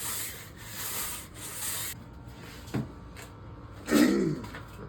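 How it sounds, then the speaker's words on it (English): Sandpaper glued onto small blocks rubs against ukulele wood in short scratchy strokes, with a couple of brief knocks and handling sounds between passes. "you just glue some sandpaper on them to get into the little places you need to get into"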